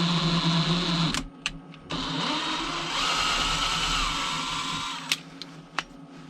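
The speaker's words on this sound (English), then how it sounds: "now we're done with the drill." An electric drill bores through hollow tubing for homemade suspension links, whirring steadily, stopping briefly, then spinning up again for a longer run, with a few sharp clicks and bumps near the end.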